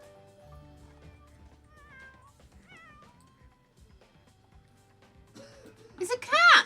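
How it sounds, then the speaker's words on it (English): A cat meows loudly in The Sims 4 near the end, a short burst of rising and falling game cat calls after a stretch of quiet game music and faint chatter. "Anybody else hear meowing?"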